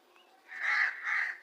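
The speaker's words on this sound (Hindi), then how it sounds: "कोई कौवा वगैरह आया दोस्तों" A crow gives two harsh, drawn-out caws in quick succession, fairly close and clear over a quiet background.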